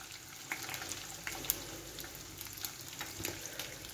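Morcilla blood sausage with onion sizzles steadily in a frying pan, a soft, close crackle with scattered small pops and a faint stir now and then.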